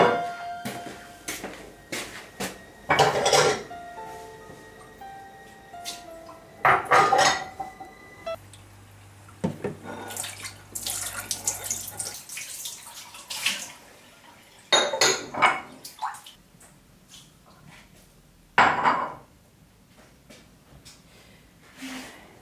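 Dishes and plates are scrubbed and rinsed at a sink, with recurring bursts of clattering plates, clinking cutlery and running water separated by quieter stretches, close and with no talking.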